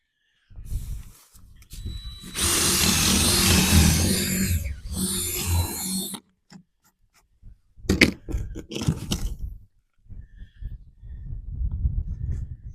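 Drill reaming out a tap hole in a maple tree, a burst of loud grinding and whirring in two runs, then scattered scraping, knocks and handling noises close by.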